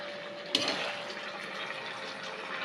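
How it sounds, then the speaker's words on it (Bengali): Water pours into a pan of masala onion chicken, opening with a sharp splash and settling into a steady hissing gush of liquid. It stays moderately faint, with no voices. "জল দিয়ে দেবো"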